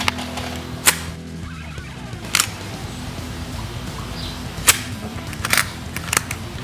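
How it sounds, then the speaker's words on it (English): Dust cover on an airsoft M4-style rifle (Lancer Tactical LT-04B Gen 2) snapping shut, one of several sharp, bright metallic clicks and snaps spread over a low, steady room hum, each loud and close. "And then goes the dust cover."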